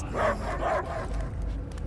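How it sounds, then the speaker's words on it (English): A dog barks in the video game Guardians of the Galaxy, two distinct barks in quick succession over a steady low rumble of game ambience, followed by fainter noise. "I hear only barking."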